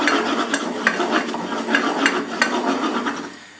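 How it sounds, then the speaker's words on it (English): A flour and butter roux stirred continuously in a pan, a rapid rhythmic scraping and soft sizzle close up, loud and steady before fading out at the end, with no speech. "Keep stirring it so that it doesn't get lumpy."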